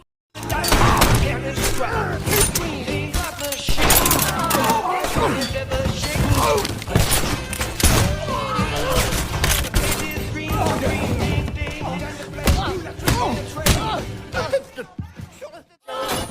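Gunfire in a film battle scene comes as dense, loud bursts of shots with thuds and crashes over a music-heavy soundtrack, with voices in the mix and a sudden dropout near the end.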